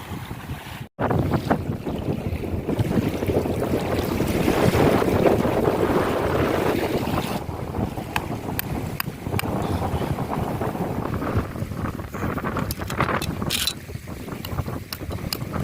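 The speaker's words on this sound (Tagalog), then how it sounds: "Lakas ng hangin." Strong wind buffets the microphone in gusty, roaring bursts while fishing from a boat, mixed with boat motion and splashing water, steady and close throughout with no clear speech.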